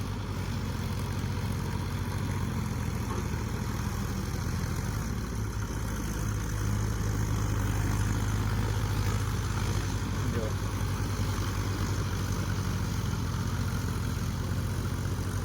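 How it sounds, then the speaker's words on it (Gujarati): A Mahindra tractor engine runs steadily at low revs during paddy planting in loamy farmland, a constant loud low rumble throughout with no breaks. "તોરા મહેન્દ્રના જોરદાર તો પંદરના રેસ ઉપર જ ટ્રેક્ટર ચાલે છે"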